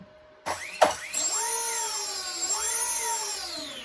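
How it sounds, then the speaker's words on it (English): RC model electric motors spin up after the throttle cut is released, whining and rising in pitch after a couple of sharp clicks, then holding and shifting in a steady high buzz, close and clear. "So our motors cycle up like normal"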